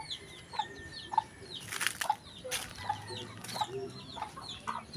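Chickens clucking and calling in short, repeated bursts over a busy farmyard background, with occasional wing flaps and rustling.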